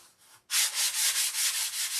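Sanding down a paint job: after a brief quiet moment, a loud steady rasping sand starts up and runs in even back-and-forth strokes, close and alone with no talk.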